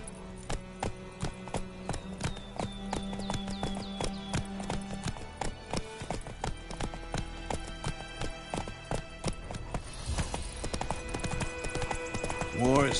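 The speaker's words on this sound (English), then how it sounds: "Run, Roach" Hooves clip-clop in a steady galloping rhythm from a horse in The Witcher 3 video game, close and continuous under game music, with a brief whinny and people speaking in dialogue.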